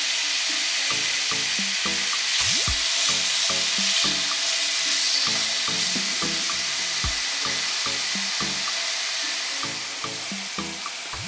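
Finely chopped onion and garlic sizzle steadily in olive oil in a frying pan, a continuous bright crackle with occasional stirring clinks and scrapes, close and fairly loud throughout.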